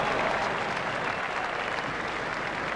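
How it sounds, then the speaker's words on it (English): Steady, dense crowd applause from the cricket video game Cricket 2002 on PC, held at an even level throughout. "Crowd are giving him a great round of applause as they appreciate the importance of this knock."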